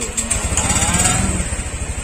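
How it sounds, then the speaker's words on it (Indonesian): A Honda Vario 125 scooter engine idling close by after being started, a steady rapid low putter with a slight rhythmic pulse and no voices. "Kemudian mesinnya dinyalakan ya teman-teman."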